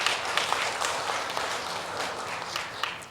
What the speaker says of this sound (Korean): 우리 감사의 박수를 드리겠습니다